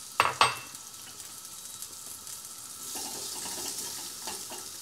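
Beef is added to a hot pan for a breakfast steak, with two sharp clanks of the pan followed by a building, close sizzle and no talk.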